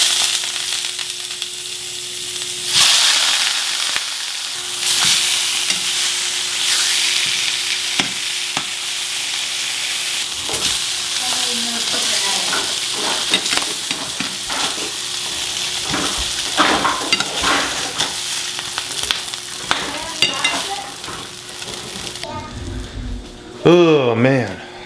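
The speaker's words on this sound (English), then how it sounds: "I'm gonna sear these up and we're gonna eat." Meat searing and sizzling in a pan, a steady frying hiss throughout with occasional stirring clatter, and a voice speaking over it toward the end.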